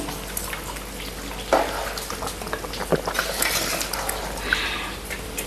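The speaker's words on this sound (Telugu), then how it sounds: "ఇప్పుడైతే నేను రైస్ వేసుకుంటున్నాను. ఇప్పుడైతే ఒకసారి కలుపుకుందామండి." Rice stirred into a boiling pot of Andhra-style village chicken biryani, a steady bubbling, watery churn with a few sharper scrapes and splashes, close by and fairly even throughout.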